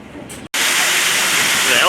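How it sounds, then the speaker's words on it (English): Water pours steadily in an indoor elephant habitat at a zoo, a loud continuous rushing hiss after a brief pause. "The elephants have a nice water feature."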